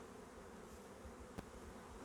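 A steady, low drone of many bees buzzing together inside a hive, fairly quiet, with one brief click near the end.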